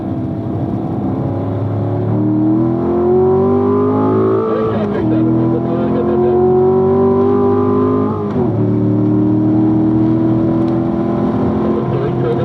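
A race car with driver coaching runs a track, its engine rising in pitch under acceleration, dropping on shifts or braking, then climbing again, loud and close under a talking voice.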